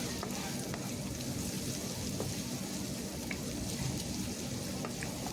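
Chopped onions sizzling in oil for kadala curry, a quiet, steady crackle and hiss with faint stirring scrapes, no one talking.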